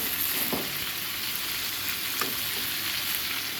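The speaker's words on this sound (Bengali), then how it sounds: "আমি জলটা গরম করে রেখেছি গরম জল দেব" Curry sizzles and fries in oil as hot water goes in for gravy, a steady loud crackling hiss with a few faint clicks, no voices.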